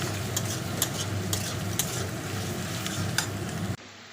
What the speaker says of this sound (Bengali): পেঁয়াজটাকে নেড়ে দিচ্ছি